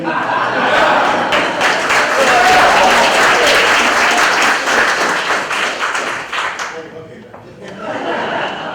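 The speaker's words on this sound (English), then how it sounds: "Just stand, we're going to applaud." Audience applause fills a ceremony hall at the Smithsonian, a dense, sustained wash of clapping with scattered chuckles that thins out near the end.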